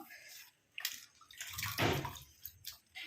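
Hibiscus leaves being washed by hand in a container of water, soft sloshing and dripping splashes in short bursts, quiet and close.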